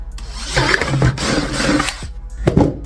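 A power drill whines and grinds continuously, rising and falling in pitch as it bores a 3/4-inch hole through a plastic bucket, close and loud.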